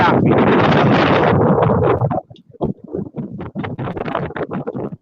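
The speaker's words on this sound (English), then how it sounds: "it's a little windy." Heavy wind buffets the microphone in a loud roaring gust, then breaks into choppy, intermittent bursts of wind noise.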